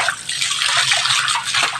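Natural spring water, free of chemicals, flowing steadily from an outdoor source used to chill drinks, a continuous broadband rush and splash close by with no talking.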